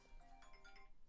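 Mobile phone ringing, a soft melodic ringtone with a few quick tonal notes, faint and distant in an otherwise quiet room.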